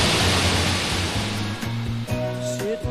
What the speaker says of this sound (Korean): 빙하가 녹아서 흘러내리는 폭포입니다.